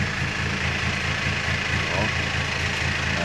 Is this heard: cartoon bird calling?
no